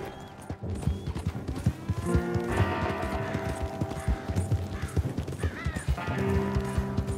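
Horse hooves clip-clopping in Red Dead Redemption 2, a steady rhythmic trot close by with a horse neighing and whinnying, mixed with game music and other background effects.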